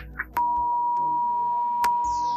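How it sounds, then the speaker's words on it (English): A steady censor bleep tone cuts in abruptly and holds for about two seconds over speech, with faint clicks and muffled voice fragments around it. "I'm going to tell them while Johnny puts a beep over this part of the show, and I'm going to do it right now."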